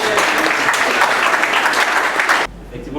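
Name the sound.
audience applause at presentation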